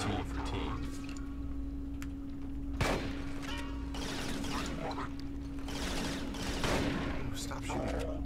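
Rapid gunfire bursts in the shooter video game Resistance: Fall of Man, fairly quiet and steady under a constant hum, with several louder volleys standing out amid the ongoing battle.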